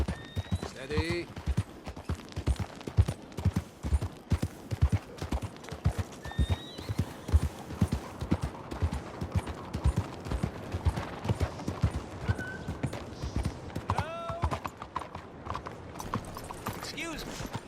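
Horse hooves clip-clopping in Red Dead Redemption 2, a steady rhythmic trot of clear hoofbeats running throughout, with occasional short voice snippets and faint tones over it.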